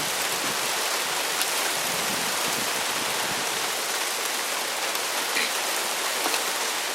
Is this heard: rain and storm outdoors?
yes